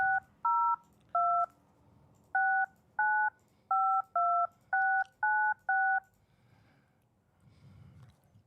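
Telephone keypad tones as a call is placed, eleven crisp even beeps in quick succession, close and clear, then a quiet stretch of faint room noise with no talking.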